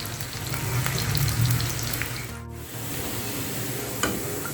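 Small chopped onions fry lightly in hot oil with a steady, moderate sizzle and crackle, a brief lull midway and a faint clink near the end, no voices.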